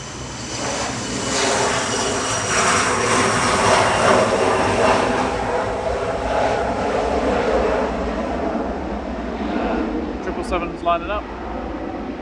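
A Loganair Embraer RJ145 jet holds a steady engine roar at Manchester Airport, a broad, continuous whine and rumble heard from moderate distance under a faint voice.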